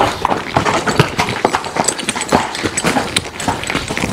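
A ridden horse's hooves clip-clop on the ground in a quick, irregular rhythm, loud and close throughout, with no talk over them.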